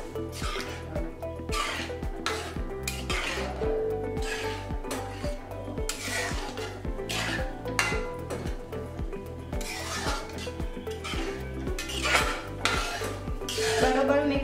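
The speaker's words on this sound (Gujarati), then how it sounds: "હવે આપણે વટાણા એડ કરીશું. હવે બરોબર મિક્સ કરી લઈશું." Dried peas stirred in a metal cooking pot for sev usal make a constant, loud clatter and scrape of a utensil against the pot, with rhythmic rattling strokes repeating throughout and no speech.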